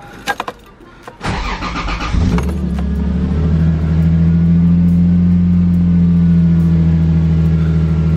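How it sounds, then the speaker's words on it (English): A Lexus IS300 engine cranks briefly after a few small clicks, catches and settles into a steady, loud idle close by with no voices. "Car starts, no issues."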